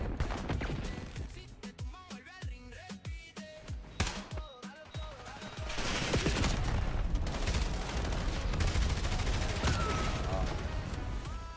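Call of Duty gunfire crackles in a string of rapid close shots, then gives way to a denser, louder stretch of sustained firing and game noise.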